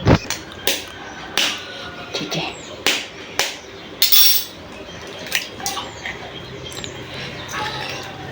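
Eggs are cracked and poured into a dish for a drumstick-leaf dish for diabetics: sharp close taps and clinks of shell and bowl in uneven bursts, followed by softer wet sounds.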